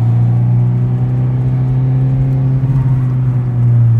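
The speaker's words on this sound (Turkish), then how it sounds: "aracımıza gaz bas, gazına basalım bakalım" A Ford Fiesta engine, freshly serviced with its EGR valve and oil leaks repaired, runs at a steady loud idle, close up, with its pitch rising slightly as the accelerator is pressed. No one speaks.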